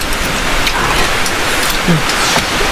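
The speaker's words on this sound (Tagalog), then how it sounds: "Umuulan mga kabayan." Rain pours outside a rural farmhouse, a loud, dense, steady hiss of drops on surfaces heard from indoors, constant with no pauses.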